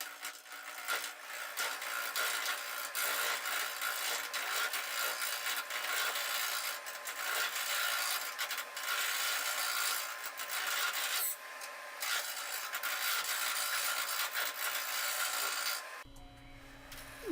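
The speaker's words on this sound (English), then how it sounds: "Turning the inside of the bowl can be very dangerous." A wood lathe turns the inside of a segmented wooden bowl, the tool giving a continuous harsh scraping hiss over the spinning, out-of-balance piece, steady and close until it cuts off near the end.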